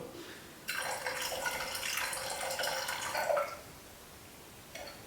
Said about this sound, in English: to the 150, I'm going to add 100 grams bypass water